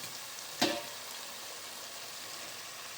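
Whole crabs dropped into tomato masala frying in a pan, a sharp splash of sizzle followed by a steady, even hiss of frying, with no voices.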